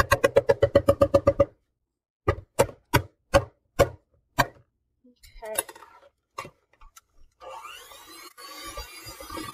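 A metal spoon scrapes and knocks against the sides of a mixing bowl of homemade cake icing, giving a run of quick rhythmic taps followed by separate clinks and then a softer, rougher scraping stretch.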